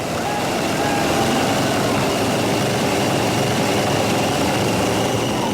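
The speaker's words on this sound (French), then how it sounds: "Le moteur démarre au quart de tour." A Cadillac engine built for quarter-mile racing runs steadily with a loud, constant rumble and roar throughout, no clear pauses.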